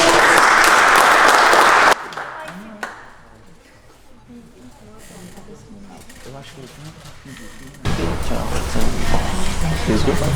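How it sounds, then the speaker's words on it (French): An audience at a mixed martial arts event applauds in a loud burst at first, then fades to quieter crowd and room noise, and the clapping swells loudly again near the end. "Merci beaucoup pour les applaudissements."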